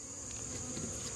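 Honeybees at an open hive during an August hive inspection, a dense steady buzz of many insects close by with no talking.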